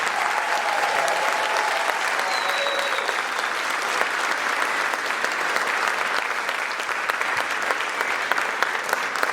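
An audience at a college academic excellence awards ceremony gives a loud, sustained round of applause for honored students, dense continuous clapping with faint crowd murmur and a brief voice underneath.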